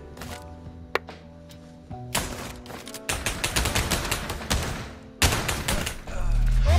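Gunfire in a VR video game, starting with a single sharp shot, then bursts of rapid overlapping shots in quick succession, loud and close, with a final flurry at the end and voices faintly beneath.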